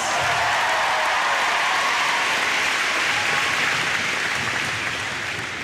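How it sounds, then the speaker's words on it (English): Audience applause fills the room, a dense, loud, continuous wash of many hands clapping at once that holds steady before easing off slightly at the end. "Give yourselves a round of applause."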